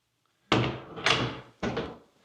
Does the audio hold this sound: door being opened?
yes